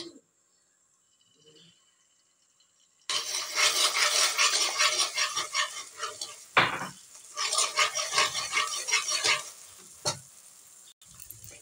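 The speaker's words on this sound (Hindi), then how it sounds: "अब मैं इसमें एग डालूंगी। इसको अच्छे तरीके के साथ मैं मिक्स कर लूंगी।" Egg stirred into hot oil in an Indian kadai, a loud sizzling crackle that starts abruptly after a quiet moment, broken by metal spatula scrapes and clinks against the pan.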